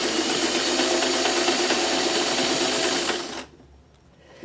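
A sewing machine stitches crumb quilt blocks in a fast, steady, close-up whir for over three seconds, then stops abruptly, leaving near silence.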